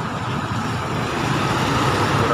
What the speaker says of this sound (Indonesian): Ada bis kota JMP.